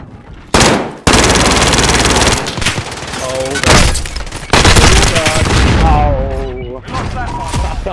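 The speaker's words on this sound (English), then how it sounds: "He's using an Uzi, bro." Rapid automatic gunfire in a battle royale shooter comes in loud, sustained bursts separated by short gaps, with overlapping shots and excited voices talking over the fire.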